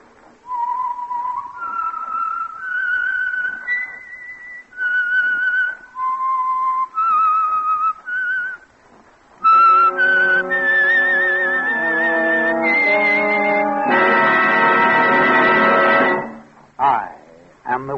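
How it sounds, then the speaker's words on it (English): A lone whistled melody, the signature tune of the Signal Oil mystery radio program The Whistler, rises and falls in clear phrases. A rich orchestral passage follows, swelling before a brief trailing note. "the signal to listen for is this whistle that identifies the Signal Oil program"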